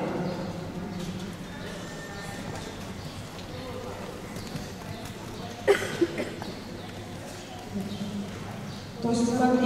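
A horse's hooves fall in soft, rhythmic clip-clops on an arena surface during a dressage ride, fairly distant and low under someone talking almost throughout, with birds faintly in the background.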